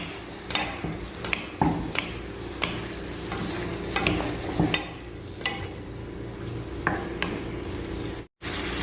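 A spatula stirs sweet spicy squid in a pan, scraping and knocking in a steady rhythm of close, distinct strokes over a soft sizzle of frying.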